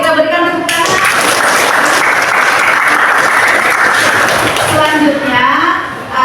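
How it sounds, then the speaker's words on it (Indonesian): A classroom group claps together in a burst of applause that swells quickly, holds dense and even for several seconds, then tapers off, with a little voice sound at the start and end. "Oke, kita berikan tepuk tangan."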